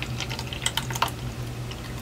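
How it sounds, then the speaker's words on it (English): Water trickles and splashes into the tank of a small USB tabletop personal air cooler, with a few clustered clicks and drips over a low steady hum; close and quiet, no speech. "So I fill the water here,"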